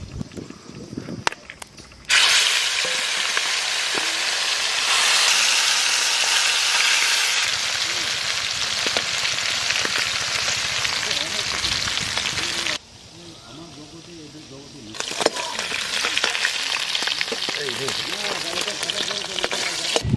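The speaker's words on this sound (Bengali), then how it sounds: "একটু তেল দেবো লেঠা মাছগুলো ভাজবো" Lata fish frying in hot oil in a pond-side village kitchen, a loud steady sizzle that swells and dips, with stirring scrapes and a brief quieter lull before the sizzling surges back.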